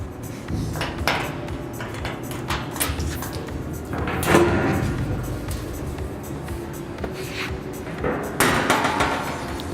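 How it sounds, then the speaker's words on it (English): Metallic clanks and knocks of a key turning and the heavy door of a vacuum marinating tumbler being worked open, with scraping and sharp bangs over a steady background hum. "So we have a key here to open our doors."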